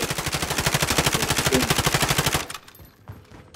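Rapid automatic gunfire in a battle royale video game, a dense, loud burst of about thirty evenly spaced shots that stops abruptly, followed by scattered fainter thuds.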